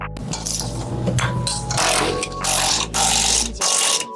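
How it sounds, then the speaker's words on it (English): A pinch bolt being tightened on a coilover during a BMW E90 suspension install, heard as repeated metallic ratchet clicks and scraping bursts in uneven spurts, close and loud, with no speech. "Now I'm just putting the pinch bolt back in and tightening it."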